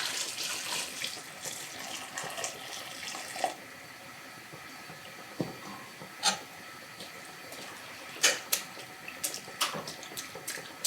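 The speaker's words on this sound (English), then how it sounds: "I need to add some of that liquid back into here." Cooking liquid poured back into a Dutch oven of home-canned Boston baked beans, a continuous watery rush with a few sharp clinks and splashes scattered near the end, with no talking.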